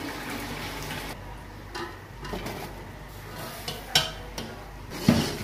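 A spoon stirs a pot of rice mixture with milk, ghee and oil for sweet zarda, giving soft wet swishes with occasional clinks against the metal near the end, close and fairly quiet.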